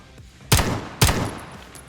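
Two loud, sharp gunshots about half a second apart in a Thai audio drama, each followed by a lingering echo, close and alone without talk.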